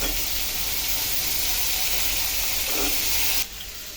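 Onion, garlic and finely chopped potato frying in a hot pan, a steady loud sizzle and hiss that holds for several seconds before dropping off abruptly near the end.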